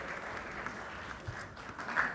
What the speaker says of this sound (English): a round of applause for the Minister of Finance